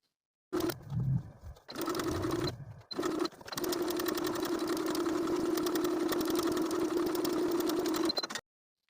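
A sewing machine hums steadily while edge stitching along the folded hem of a flutter sleeve, starting with a couple of short bursts and then running continuously until it halts.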